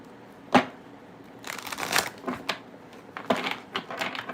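Tarot cards are shuffled by hand at close range, a sharp single snap followed by a run of quick papery riffles and clicks in uneven bursts, with no talking.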